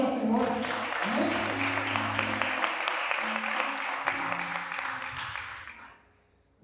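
A church congregation claps together during a Sunday service, a steady full-room applause with voices and singing tones mixed in, holding for about six seconds before stopping abruptly.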